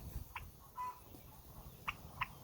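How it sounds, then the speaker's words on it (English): A Spanish Black heritage turkey gobbles in a few short, faint bursts, with quiet outdoor background in between. "the black turkey is a Spanish black"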